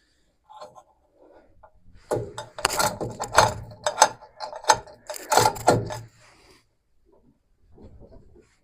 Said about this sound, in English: At least my pulley's working.